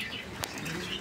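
Pigeons at a farm give a brief burst of wing flapping, a quick soft flutter over faint background noise.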